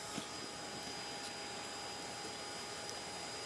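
A vacuum roars steadily, its nozzle sucking yellow jackets out of a large underground ground nest, a continuous loud whooshing drone with faint ticks of insects striking the hose and no talking.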